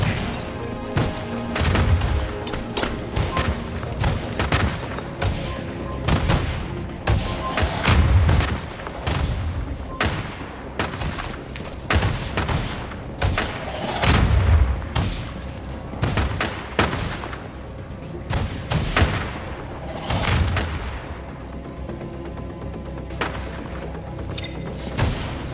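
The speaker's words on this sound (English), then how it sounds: "Missile barrage prepared!" Missile barrage explosions in The Division, a rapid series of heavy booms and blasts with crackling gunfire between them, loud and sustained.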